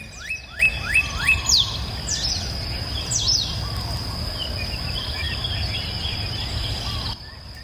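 Repeated high, sweeping bird chirps and calls over a steady insect-like hum, with several bright calls clustered early and then fading into a continuous background chorus, no voices.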